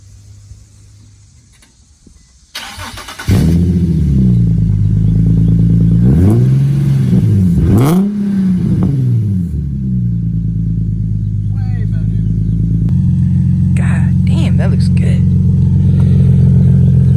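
A Nissan 370Z with an ISR Y-Back single-exit exhaust revs hard and close, its loud engine note climbing and dropping through several pulls before settling into a steady, rumbling idle.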